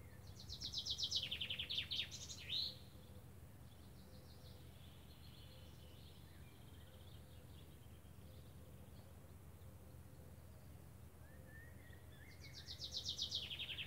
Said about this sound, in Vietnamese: Cả nhà nghe tiếng chim không?